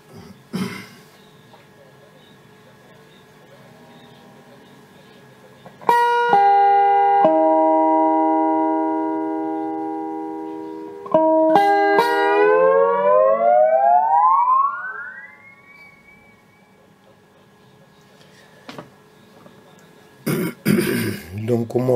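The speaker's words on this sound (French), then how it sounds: "Stéréo reverb." Electric guitar played through a Boss ME-10 multi-effects unit under repair, set to stereo reverb: a sustained chord rings out, then notes glide steadily upward in pitch, with reverberant tails and short noisy bursts between passages.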